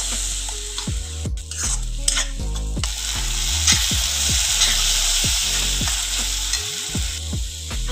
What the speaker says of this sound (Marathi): त्यानंतर घालायचे आहे आलं लसूण पेस्ट आणि फिरवून घ्यायचे आहे